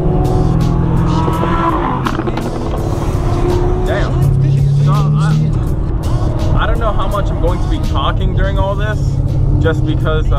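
Sports cars, including a Ford Mustang, driving in a group on a canyon road, with loud continuous engine roar and rising revs heard from inside a car, and people talking over the noise.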